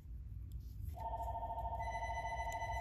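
A telephone rings in a quiet home, a steady electronic ringtone starting about a second in and holding on clearly, close and fairly loud with no talk over it.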